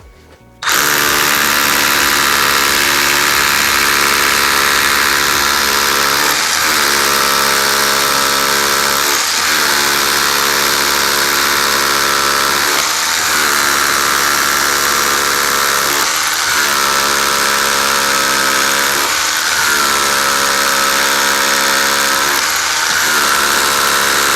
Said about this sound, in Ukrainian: буром від компанії Milwaukee, зможе просверлити на всю глибину сверла